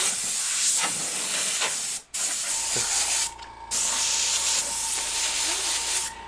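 An airbrush sprays paint in close bursts of airy hiss, cut off by two brief pauses, while painting realistic fire flames.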